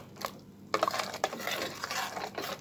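Vegan pepperpot soup with callaloo and pigeon peas is stirred in a pot, with a faint hiss followed by clattering scrapes and knocks of a utensil against the metal at an irregular pace, close by.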